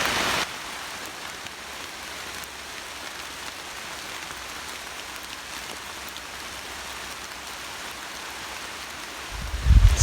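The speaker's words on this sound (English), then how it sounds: "I started out hiking in the rain because it appears it's going to rain all day" Rain falls steadily around a hiker on a mountain trail, an even, dense hiss of drops filling the whole stretch, with a brief low rumble of movement near the end and no voices.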